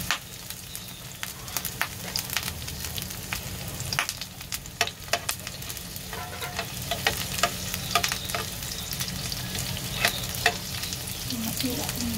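Onion and garlic sauté in a pan, giving a continuous moderate sizzle punctuated by scattered sharp ticks and scrapes of stirring, with no talking.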